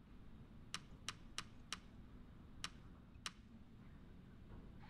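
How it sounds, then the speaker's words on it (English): Six sharp computer keyboard key clicks tapped sparsely and unevenly, close and fairly quiet over a low steady background hum. "We have to click keyboard buttons"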